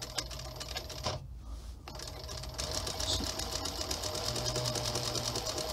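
A treadle sewing machine runs in a steady, rapid mechanical chatter, close and fairly loud, with a short pause near the start before the stitching resumes and continues evenly.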